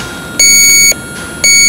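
Two electronic beeps from an automotive AC gas leak detector, high and steady tones each lasting about half a second with a pause between, over faint background hiss.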